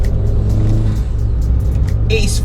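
A big-turbo Fiat Punto making 191 bhp, its engine rumbling steadily under load, with a sharp high turbo whoosh and flutter near the end.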